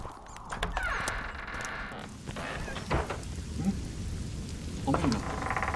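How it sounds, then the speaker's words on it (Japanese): Steady rain hisses in the video game The Witcher 2, with low rumbles of thunder rolling beneath and occasional clopping and thuds from the game mixed in throughout. "雨になった。"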